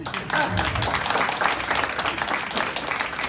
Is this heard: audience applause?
yes